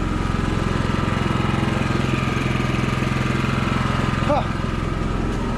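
A Champion 4500 W wireless remote generator runs on a Hotshot RV, giving a steady, fairly quiet engine drone throughout, with a brief voice near the end.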